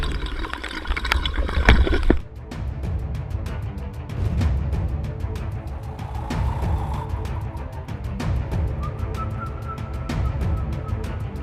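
Waterfall water fills a rock hollow and surges back out with gurgling, sloshing wash. A louder rush at the start gives way to continuous churning flow with small splashes.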